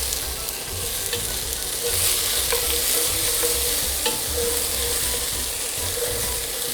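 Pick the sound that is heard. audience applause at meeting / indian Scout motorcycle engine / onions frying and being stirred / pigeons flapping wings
onions frying and being stirred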